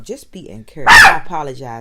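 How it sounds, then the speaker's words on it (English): A dog lets out a sharp, loud bark close by, cutting into a person's speech, which continues around it. "My dog is barking."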